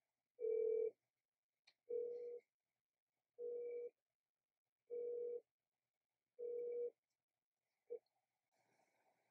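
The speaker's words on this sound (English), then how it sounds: "So I'll go ahead and make this call right now." Outgoing telephone call ringback: five evenly spaced ring bursts about every 1.5 seconds, fairly loud and clean, followed by a faint start of a voicemail greeting.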